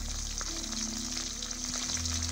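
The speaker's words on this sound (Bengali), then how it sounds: "সর্ষের তেলটা খুব ভালোভাবে গরম করে নিয়ে তার মধ্যে মাছগুলো ভালোভাবে ভেজে নিচ্ছি।" Sardine pieces frying in hot mustard oil in a pan, a steady, fairly quiet sizzle that runs continuously with a faint background hum and no talk.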